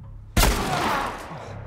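A single sharp gunshot in The Last of Us video game, sudden and loud, cracking out after a brief quiet and leaving a rumbling, reverberant tail that fades over the next second.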